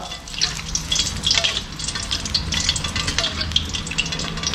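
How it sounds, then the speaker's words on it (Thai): Dried bird's eye chilies fry in hot oil in a pan with a steady, close crackling sizzle and occasional bright pops, punctuated by soft stirring scrapes throughout. "เราก็จะมาทอดพริกขี้หนูแห้งของเรากัน"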